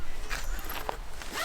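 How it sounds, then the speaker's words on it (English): Hammock zipper pulled down, a quick rasping zip with a few scratchy bursts, close and fairly loud, no talk. "if you zip the zipper down"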